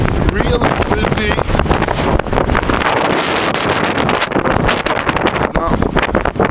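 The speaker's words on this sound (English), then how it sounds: "It's really windy." Strong wind buffets the microphone on foggy, cold Mount Hamilton at Lick Observatory, a loud, roaring, gusting rush that never lets up, with a voice speaking beneath it.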